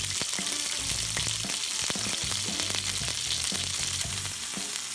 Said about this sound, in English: Since salmon cooks so quickly, like I really just wanna kind of get the sear on it first